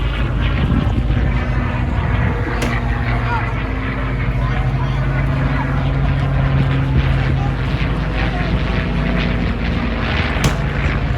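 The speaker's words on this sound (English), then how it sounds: "the Griffin engine in the Rolls-Royce Spitfire today, Mark 19" A Rolls-Royce Griffin-engined Spitfire Mark 19 drones at an airshow, its piston engine a steady, moderately distant rumble with a faint pitch shift, under continuous commentary from someone speaking.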